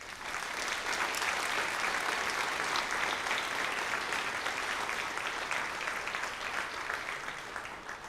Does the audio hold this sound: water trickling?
no